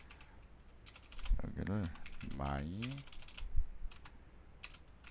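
Computer keyboard keys click in quick bursts as a search is typed, close and fairly quiet, with someone speaking briefly over the typing.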